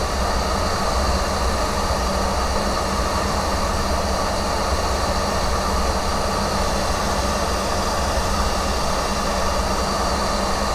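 A hot air soldering station set to 400 degrees blows a steady, dense hiss of air that stays level and unbroken throughout.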